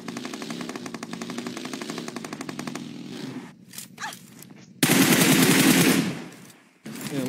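Rapid automatic gunfire rattles in a first-person shooter game, long loud bursts alternating with brief gaps and sharp single shots, close and dominant with no talk over it.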